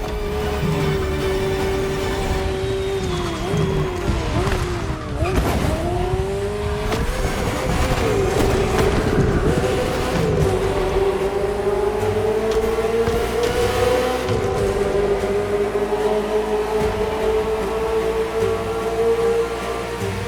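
A Ferrari F40 racing in The Crew Motorfest, its engine droning loudly and rising and falling through gear shifts, with squealing tires, heard alone and up close throughout.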